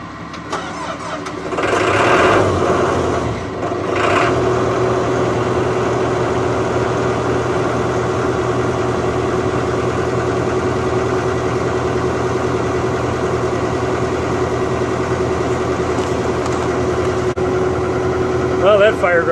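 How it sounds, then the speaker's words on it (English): A diesel excavator cranks and fires up outdoors in winter, then settles into a steady, loud, rumbling idle that holds without change for a long stretch. "I'm going to get the excavator started."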